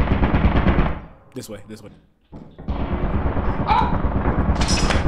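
A turret in Lethal Company fires a rapid, loud machine-gun burst. The burst breaks off into a brief near-silence and then resumes with sustained gunfire and clatter. A voice speaks briefly.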